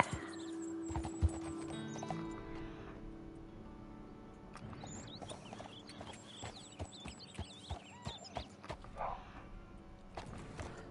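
A horse's hooves in Red Dead Redemption 2 clip-clop over rocky ground at a steady walking pace, soft and fairly close, with a faint whinny and quiet game ambience around them.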